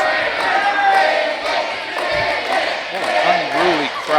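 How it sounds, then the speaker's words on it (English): Unruly crowd chanting and cheering inside a historic building at an energetic live show, a dense roar of many voices with rhythmic rises and a commentator's voice talking over it. "Unruly crowd in this beautiful historic building, and they're chanting chants like that."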